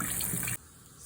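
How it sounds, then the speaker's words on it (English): Tap water runs steadily into a kitchen sink while potatoes are washed, a loud close gush that cuts off abruptly after about half a second, leaving faint room noise. "Washing the taters so they can go in the pot."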